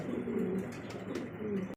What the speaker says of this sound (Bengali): এখানে আরও একজোড়া কবুতর